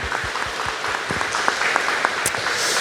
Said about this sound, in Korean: 우리 하나님 앞에 영광의 박수를 드리겠습니다